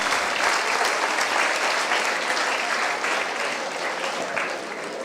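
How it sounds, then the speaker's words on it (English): A big round of applause from the crowd at the IBC Alt Hack live event in Vizag, loud, dense clapping that stays strong and even before easing slightly near the end. "Guys, a big round of applause"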